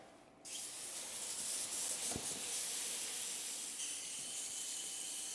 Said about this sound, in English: Don't have to get crazy with the power washer or anything like that, just a simple hose. Get all the soap off.